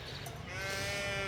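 Ewes bleat at feeding time on a sheep farm, one loud drawn-out bleat close by rising over a background of other animal and barn noise, with no talk.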